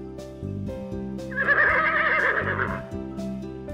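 A toy horse gives a loud electronic neigh and whinny over a looping toy melody, with a brief clip-clop of hooves, from a Blaze and Crusher monster truck toy set; no talking.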